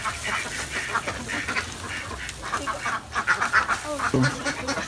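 Domestic ducks at an egg-laying pen keep up a busy, continuous stream of overlapping quacks, with a few louder, closer calls toward the end.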